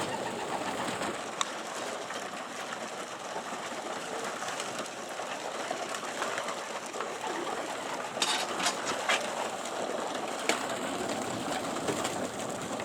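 Racing pigeons feed in a loft, a steady dense clatter of pecking and shuffling with soft cooing mixed in, continuous and fairly close, with a few sharper knocks.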